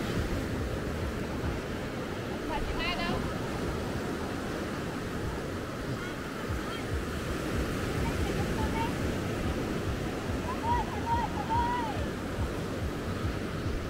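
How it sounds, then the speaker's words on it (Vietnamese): Rough sea surf breaks continuously on the wild, sparsely visited Cảnh Dương beach in Phú Lộc, Thừa Thiên Huế, a loud steady roar of waves mixed with wind noise, with someone talking over it. "Hôm nay trời biển động"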